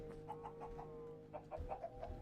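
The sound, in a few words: chickens clucking in Minecraft video game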